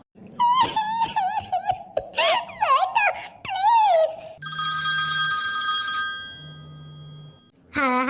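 A cartoon telephone rings in two steady electronic bursts with a low buzzing tone beneath, following a stretch of high, animated cartoon voices talking and giggling.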